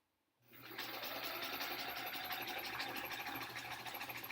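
A sewing machine starts up after a moment of quiet and runs continuously, stitching a large border onto a sampler quilt with a steady close whirring hum and rapid needle ticking.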